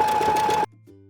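A sewing machine stitches lettering down a pair of tote bag straps in a fast, steady whir lasting about half a second, then stops abruptly, leaving faint tonal hum.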